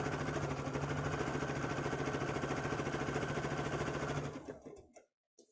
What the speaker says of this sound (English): And just sewing.